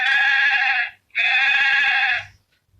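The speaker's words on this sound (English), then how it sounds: "Sounds like a goat or a sheep." A young antelope in South Africa's Nama Karoo bleats twice, close and loud, in goat-like, sheep-like cries separated by a brief pause.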